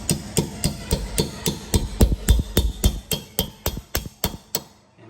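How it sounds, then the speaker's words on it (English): A hammer strikes a punch again and again to knock out the brake pad pin on a Porsche Cayman or Boxster 987, about twenty sharp, even metallic taps close by that fade off at the end. "I just use a punch and go right here with a hammer and strike it."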